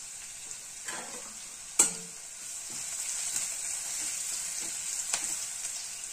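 Chopped ridge gourd fries in a pan with a soft, steady sizzle, close and fairly quiet, broken by a few clinks and scrapes of stirring.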